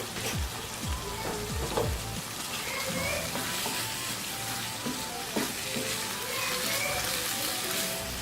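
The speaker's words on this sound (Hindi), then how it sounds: "अब मैं इसको तेज़ आंच पे तकरीबन 2 से 3 मिनट इसकी ना भुनाई करूँगी" Minced meat and peas with whole green chilies and dried fenugreek frying on high heat, a dense continuous sizzle close up with occasional stirring scrapes, no speech.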